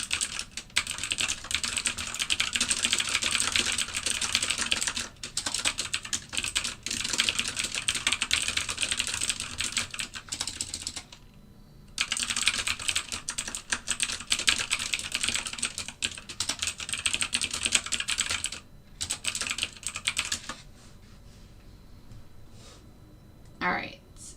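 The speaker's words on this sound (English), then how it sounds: "I know this keyboard is super clicky" Rapid clatter of a very clicky computer keyboard during live algorithmic trading, dense bursts of keystrokes with a few brief pauses, loud and close.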